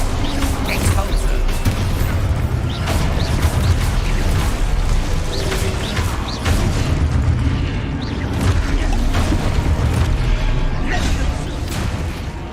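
Expulso spell explosions in Hogwarts Legacy: repeated heavy booms and blasts rolling through a loud, unbroken din of magical combat for the whole stretch.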